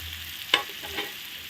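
Potatoes fry for ghugni as spices go into the pan, giving a steady soft sizzle with one brief sharp crackle and a small stir, close and alone without speech.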